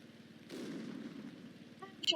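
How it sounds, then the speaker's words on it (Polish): A video game dynamite explosion: a muffled, rumbling blast swells up and lingers as a low roar, followed by a few sharp electronic blips near the end. "to będzie lepszy wybuch"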